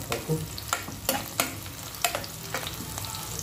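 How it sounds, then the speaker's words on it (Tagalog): Ginger stirred in a frying pan while cooking kinamatisang pampano: a steady sizzle with scattered scraping clicks of a utensil at irregular intervals, close and moderately loud, no talking. "Lagyan na natin itong ginger, luya. Halo-halo lang."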